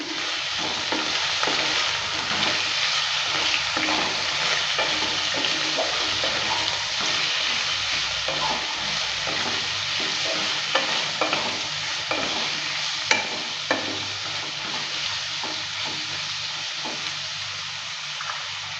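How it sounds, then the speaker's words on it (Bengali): Pointed gourd peels stirred and fried in a pan with garlic and onion, a steady loud sizzle with scraping stir strokes running throughout, no voices. "দিয়ে দিচ্ছি এর মধ্যে পটলের চোচাটা দেওয়ার পর নেড়ে চেড়ে নিচ্ছে"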